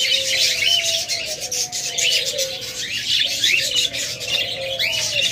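Pure white, red-eyed albino lovebirds give continuous high chirps and squawks, busy and fairly close, with several birds calling over one another.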